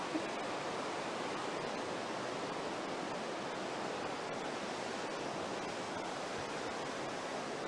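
Rushing river water churning through the narrow rock walls of the Aare gorge, a steady, dense broadband roar that holds unchanged throughout with no voices over it.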